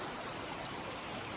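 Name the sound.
stream flowing along Appalachian Trail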